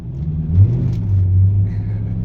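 A 24-year-old Ford Crown Victoria LX engine gives a deep, close rumbling drone with a brief rev swell early on and a sustained low growl after, no talk over it.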